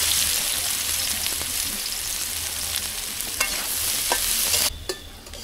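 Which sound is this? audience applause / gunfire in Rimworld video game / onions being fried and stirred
onions being fried and stirred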